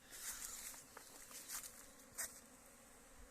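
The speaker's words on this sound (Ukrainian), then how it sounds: "дивіться, як бджоли активно працюють, працюють, щось все летять, несуть" Honey bees fly and work around a hive entrance in early spring, buzzing faintly and continuously with individual insects droning closer in short passing swells.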